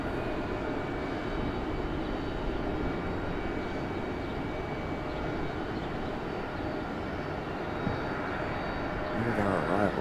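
Jet airliners at Raleigh Durham International Airport, a steady broadband engine roar holding at moderate loudness for the whole span with no talk over it.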